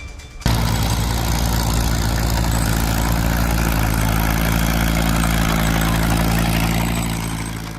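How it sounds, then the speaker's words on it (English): A 1947 Caterpillar D4 bulldozer, a 35-horsepower machine with a 4-cylinder diesel, starts abruptly and settles into a loud, steady, close-up low drone that eases off slightly at the end. "Its 4-cylinder diesel engine and dry clutch system have made it a trusted machine in the field for years."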